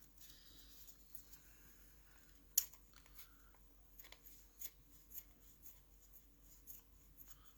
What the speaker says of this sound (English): My scissors aren't the best.